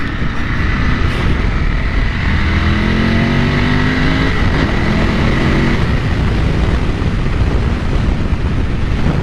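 A 2001 Ducati 996 sport bike engine drones loudly throughout while being ridden, a dense continuous roar with pitch rising and falling as the rider works the throttle, plus heavy wind noise.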